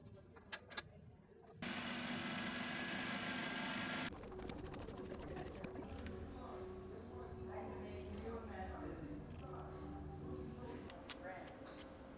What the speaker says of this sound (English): Now I'm just milling some flat spots so that I can grab these with a wrench to install them.